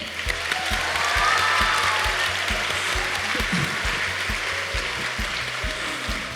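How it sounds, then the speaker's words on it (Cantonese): An audience at a school musical theatre performance claps steadily for the performers, a dense, even wash of applause lasting throughout without pause. "俾啲掌聲佢哋先。"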